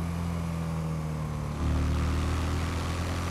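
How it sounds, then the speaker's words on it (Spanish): A GTA Online motorcycle engine drones loud and steady, its pitch shifting partway through as the throttle changes, with no one talking over it. "Ese sonido es adictivo, el de la moto."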